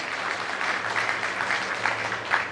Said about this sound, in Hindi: ताली बजाओ जोर से बिटिया के लिए।